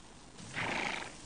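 A single horse neigh from a 17-hand horse, a bright, rising whinny swelling in the middle and trailing off, fairly close with no voices.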